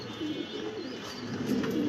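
Pigeons coo softly in a loft, low murmuring calls layered over a steady broadband background hiss, continuous and fairly faint.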